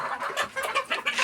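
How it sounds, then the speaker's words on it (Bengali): Domestic chickens, local desi or farm broiler hens, clucking in a quick run of short, close, fairly loud calls with no pauses. "আমাদের দেশি কক বা ফার্মের অথবা ব্রয়লার মুরগি"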